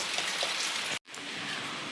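Steady rain falls throughout, a dense even hiss of drops on surfaces that drops out for a moment near the middle before resuming at the same level, with no voices.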